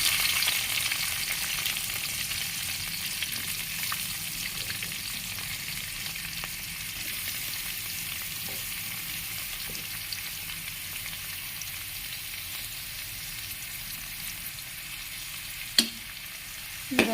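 Chopped onion, garlic and ginger fry in coconut oil for a Kerala-style chicken curry, giving a steady close sizzle with a few sharp utensil knocks and scrapes near the end.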